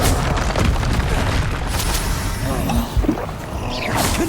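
Confringo spell explosions in the video game Hogwarts Legacy: loud, booming blasts burst one after another with crackling debris and rumbling tails, while a voice speaks faintly in the background.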